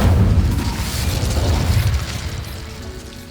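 Incendio fire spell cast in the Hogwarts Legacy video game, a deep whooshing burst of flame that hits loud at once and fades over a few seconds.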